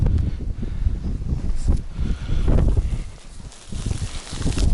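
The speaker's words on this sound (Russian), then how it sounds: "Тут-то ветер, конечно" Wind gusting over open northern water while out fishing, a broad low rumble and buffeting across the microphone, loud and steady throughout with no clear voices.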